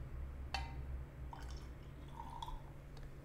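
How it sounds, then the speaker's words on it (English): Water is added to a glass of whisky, heard as a few faint drips and small liquid splashes over a quiet background hum. "Next, you want to add some water. I would recommend 1 part water to 2 parts whisky."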